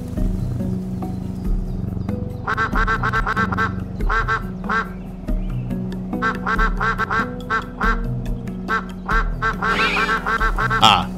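Repeated duck quacks in bursts in the video game SCHiM over a steady synthetic game soundtrack, some quacks clustered rapidly, others spaced out, fairly loud and close.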